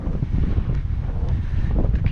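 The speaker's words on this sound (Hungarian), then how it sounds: "Elég nagy a szél." Strong wind buffets the microphone on a mountain lookout trail in Romania's Királyerdő range. It makes a loud, continuous low rumble with gusty flutter for the whole stretch, and no voices are heard.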